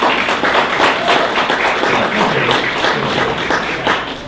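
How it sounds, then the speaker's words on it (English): An audience claps in warm applause to welcome a guest speaker at an LA2M business meeting, a dense, steady patter of many hands filling the room throughout. "let's give Chad Wiebesick a warm round of applause and welcome him to LA2M"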